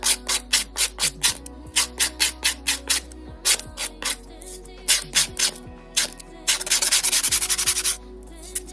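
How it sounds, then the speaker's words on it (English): Mani Boss nail file being primed, its sides scored with quick repeated rubbing strokes, a steady series of close, crisp rasping passes ending in a rapid flurry. "the first thing I'm going to do is actually prime my file"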